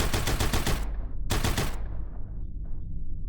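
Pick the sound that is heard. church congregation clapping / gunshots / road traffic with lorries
gunshots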